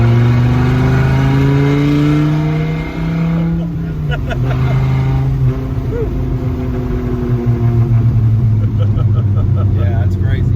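A 1993 Dodge Viper RT/10 accelerates hard, its engine note rising loud and close through a gear before a shift, then pulling strongly again, with people talking inside the car over it.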